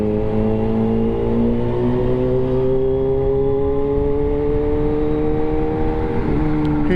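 A Kawasaki ZH2 sports motorcycle speeding along Macapagal, its engine a loud, steady, high-pitched drone heard close up, the pitch climbing slowly as it accelerates and then dipping near the end.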